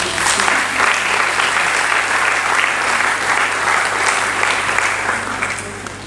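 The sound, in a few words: audience applause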